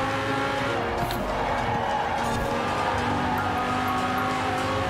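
A racing car in Forza Horizon 4 roars under steady throttle, its engine drone loud and continuous with a high whine, faint tyre noise, and no voices over it.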